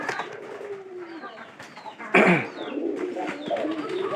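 Pet pigeons, a male and female kept in a loft and recovering from heat-related colds, cooing in repeated low throaty coos nearby, with a sharp bright rustle midway and brief talk mixed in.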